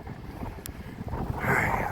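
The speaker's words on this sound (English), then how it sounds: "It is windy." Strong wind buffets an off-grid houseboat during stormy weather, a steady rushing roar that swells louder toward the end, close and unbroken.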